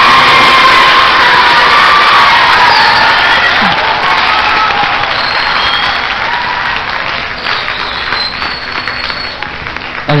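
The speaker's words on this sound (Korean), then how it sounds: "이창규 박수 한 번만 주셨습니다" Studio audience applauding at a live public radio broadcast, a dense, loud burst of clapping with some cheering that carries steadily and tapers slightly near the end.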